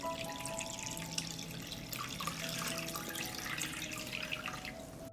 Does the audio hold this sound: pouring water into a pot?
yes